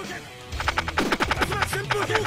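A rapid burst of synthetic gunfire rattles off in quick succession, loud and punchy, like automatic weapon shots in the game I Wanna Be the Boshy.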